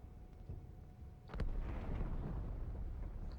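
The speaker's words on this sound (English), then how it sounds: "Yes, it's the explosions." A sudden sharp crack followed by a deep rumbling explosion that rolls on and slowly fades, with quieter background noise before it; an explosion in the video game Halo 2.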